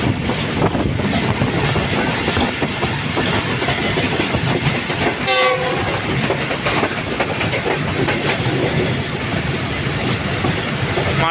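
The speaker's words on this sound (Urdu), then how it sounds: "جعفر ایکسپریس ڈرائیور جنکشن پر ارائیول بنا رہی ہے" The Jaffar Express passenger train approaches a railway junction station at speed, with loud continuous rumbling, clattering wheels on track and a brief squeal midway, steady and close throughout.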